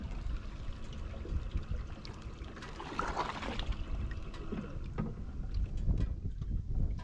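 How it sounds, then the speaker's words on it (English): Strong wind buffets the microphone outdoors on a bass fishing trip on the water, a continuous rough roar with gusts swelling and easing, no voices. "It's crazy windy."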